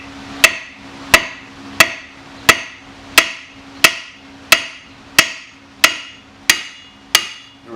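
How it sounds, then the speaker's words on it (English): A hammer strikes the steering knuckle of a 2008 Pontiac Grand Prix to free the ball joint, eleven sharp metallic blows at a steady, even pace with ringing decay between them, close and loud. "You have this nice flat spot right here to hit with a hammer, and you'll notice the sound change when it's free."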